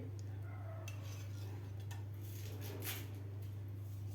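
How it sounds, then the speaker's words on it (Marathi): Kasuri methi being dry-roasted in a kadai with a spoon, soft repeated scraping and metallic clinks against the pan, faint and close over a steady low hum, no talk. "कसुरी मेथीसुद्धा आपल्याला व्यवस्थित भाजून घ्यायची आहे"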